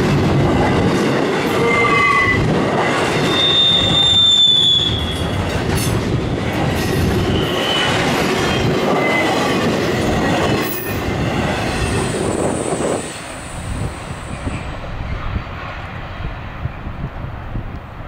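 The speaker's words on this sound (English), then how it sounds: "The intermodal train is moving east after having finished its assault on the mountain" An eastbound intermodal container freight train rolls past close by on a curving Allegheny mountain mainline, its loud rumble and clacking wheels joined by repeated high squeals before the sound fades away.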